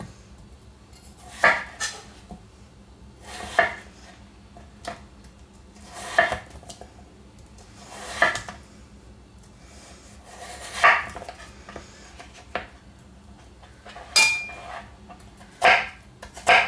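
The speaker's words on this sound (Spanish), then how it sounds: "vamos a cortar las patatas" Knife cutting potatoes for leek and potato soup, with about eight sharp, crisp chops against a board at roughly two-second intervals, close and distinct over a quiet background.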